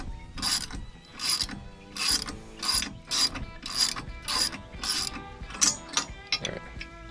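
A ratchet clicks in repeated bursts, about eight strokes, while tightening bolts on the mounting plate of a zero-turn mower canopy; the sound is close and steady, with no talking.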